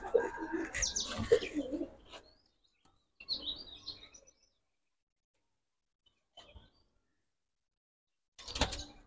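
Silver Musaldom pigeons cooing, soft low coos in short separate bursts with quiet gaps between, near and faint, alongside a few brief clatters.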